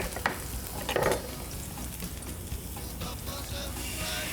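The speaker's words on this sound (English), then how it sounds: "We'll start off by sauteing some ginger, little bit ginger, little bit celery, and then Chef Jico will start frying the ch" Ginger and celery sauté in a pan with a soft, continuous sizzle, broken by a few clinks and stirring scrapes near the start.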